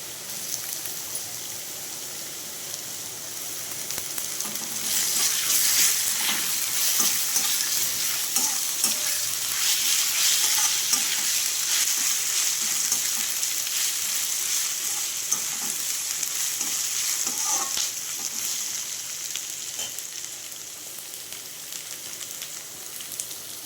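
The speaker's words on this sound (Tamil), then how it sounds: "இஞ்சி பூண்டு விழுது சேர்த்துருக்கேன் சேர்த்துட்டு நல்லா வதக்கிக்கலாம்" Onion sautéing with ginger garlic paste in a pan, giving off a dense, steady, rain-like hiss of frying that swells and stays loud throughout, with faint occasional stirring.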